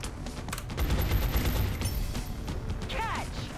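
A grenade attack in the XCOM: Enemy Within video game, a burst of loud rattling gunfire and mechanical clatter in the middle, followed by a short whistling sweep, with game audio throughout.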